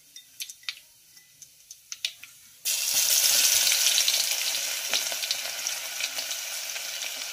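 Garlic hits hot oil already holding cumin and mustard seeds, for a dhaba-style kadhi pakoda. A few sharp ticks and pops come first, then a sudden loud sizzle that carries on steadily, close by.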